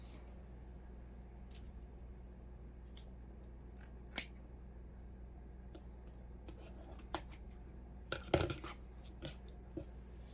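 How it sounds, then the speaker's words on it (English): Scissors snip away leftover fabric pieces while assembling a handmade sunflower gnome, giving a few sharp, short cuts spaced apart over a quiet room background, with a louder cluster of snips near the end. "I'm just going to cut the pieces off I'm not going to use."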